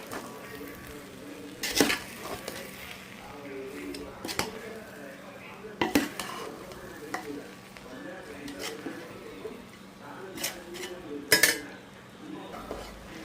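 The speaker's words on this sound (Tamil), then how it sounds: "அடியிலேருந்து கிளறி விட்டுடலாம்" A spoon scrapes and clanks against a pot of mutton biryani, stirring it up from the bottom. Scattered metallic knocks ring out over a soft background hum, with voices talking quietly throughout.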